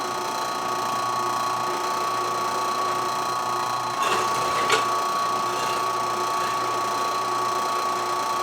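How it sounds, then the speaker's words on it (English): M6 x 1.0 threads being tapped into metal set-screw holes for a homemade drift e-brake on an E36, a steady mechanical whir with a couple of brief clicks midway, no speech. "we are going to tap it really quick for set holes"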